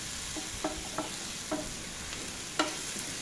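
Chicken fries in a pan with a soft continuous sizzle, broken by a few light scraping stirs at irregular intervals, fairly quiet and with no one talking.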